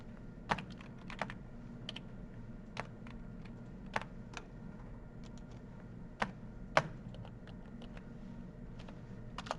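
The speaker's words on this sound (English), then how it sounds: "I should have calculated it on the spreadsheet so I didn't have to manually key it in." Numbers being keyed into a computer keyboard for a spreadsheet calculation: soft, close clicks tapped in short irregular bursts with pauses, over a quiet background hum.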